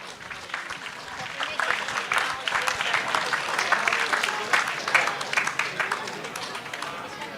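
Audience applause at the IBOH 2024 closing ceremony, as prize winners come on stage: dense crowd clapping that swells and holds steady for several seconds, a room full of hands with no talk over it.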